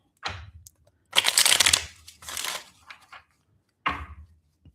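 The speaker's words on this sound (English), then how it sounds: "Let's see one more shuffle." Tarot or oracle reading deck being shuffled in several short, papery bursts with brief pauses between them, close and fairly loud, no talking.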